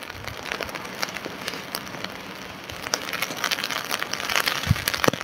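Steady outdoor rain patters and spatters across surfaces in a park, a dense, fairly loud hiss that swells slightly toward the end.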